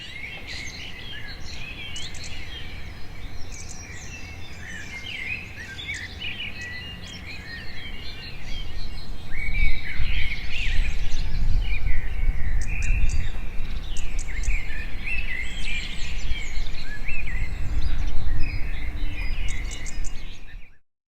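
Dense chorus of songbirds and insects in a morning meadow, many overlapping chirps, trills and calls close and far, steady throughout and swelling louder partway through, with no talk.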